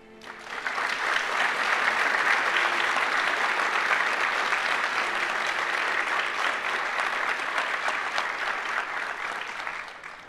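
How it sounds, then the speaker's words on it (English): Sustained applause from a school audience at a 2022 National Honor Society induction ceremony, a dense steady wash of many hands clapping that swells in quickly, holds evenly for about ten seconds and tapers slightly at the end. "You may now applause."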